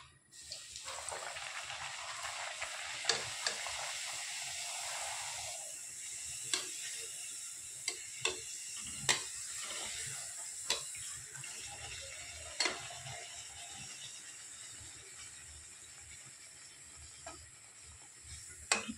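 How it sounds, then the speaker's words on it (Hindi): A puri dropped into hot oil in a kadhai, giving a broad, bubbling hiss that swells and then settles into a steady fry, with occasional sharp clicks and taps of a utensil, faint and without talk. "अब मैं इसमें पूड़ी डालती हूँ।"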